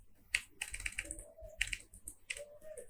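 Computer keyboard typing while entering Flask code, with a few bursts of quick keystrokes separated by brief pauses, fairly close and moderately loud, with no speech.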